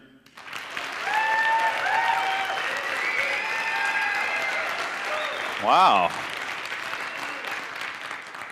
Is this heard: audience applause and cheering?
yes